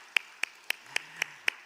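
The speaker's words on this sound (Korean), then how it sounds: "우리 하나님께 영광의 박수 같이 올려드릴까요?" A church congregation claps in unison during a Wednesday prayer meeting, with six crisp, evenly spaced claps in a slow, steady rhythm that sound fairly soft and stand alone without talk.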